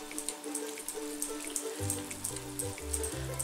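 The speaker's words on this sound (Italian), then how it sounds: "E l'acqua a filo, piano piano, fino a ottenere la consistenza desiderata." A thin stream of water poured slowly into codfish batter in a home kitchen, a soft continuous trickle with light splashy droplets and a low bubbling undertone, close and steady without speech.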